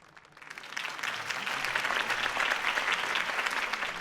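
Crowd applause in a video game, Batman: The Telltale Series, swells in and holds steady, a dense wash of many hands clapping at moderate distance.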